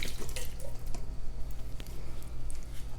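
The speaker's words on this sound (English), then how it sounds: "these do come in liquid, so you want to strain the liquid off" Liquid from a 14-ounce can of quartered artichoke hearts drains and drips steadily through a strainer, close and fairly loud, with soft wet squishing throughout and no talking.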